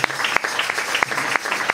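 Congregation clapping in church during worship, a steady rhythmic beat of sharp claps at close range with no voices over it.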